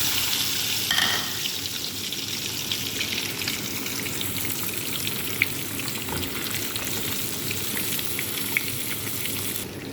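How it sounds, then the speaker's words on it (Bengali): Onion and garlic sizzle steadily in hot oil in a home kitchen, with a continuous bright crackle, a few soft stirring knocks and tiny pops throughout. "এই তেলের মধ্যে আমি পেঁয়াজ রসুন দিয়ে দিন।"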